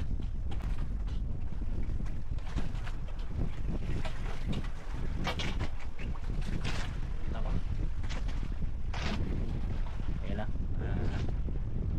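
Strong wind from a sudden low-pressure system roars steadily across the microphone on open sea during a fishing trip, with creaks and rushing gusts throughout and faint voices mixed in.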